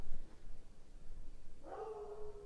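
A dog barks and whines once, a short bright yelp rising near the end after a stretch of low room noise, heard close and alone.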